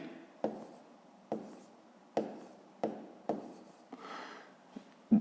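Pen writing on paper while working a fifth-grade math problem: quiet, close scratchy strokes in a series of short bursts, roughly one every second, with no talking.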